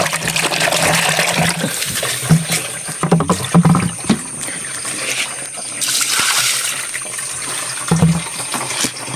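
Water flows and gushes steadily with a broad rushing hiss, broken by a few knocks and splashes, heard close with no talk.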